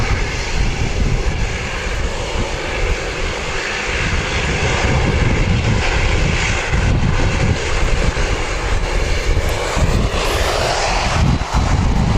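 An Air New Zealand aircraft on flight NZ8309 from Wellington to Nelson gives a loud, close, sustained engine drone with gusting wind buffeting over it, steady for the whole stretch.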